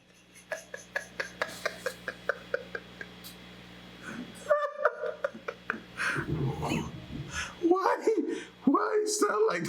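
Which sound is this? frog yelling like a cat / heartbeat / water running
frog yelling like a cat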